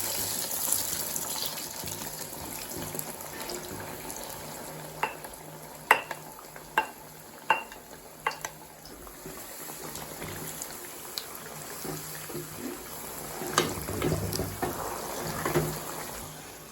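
Semolina is stirred into hot sugar syrup in a pan for halwa, giving a soft bubbling sizzle under scraping and stirring, with several sharp spoon knocks against the pan near the middle.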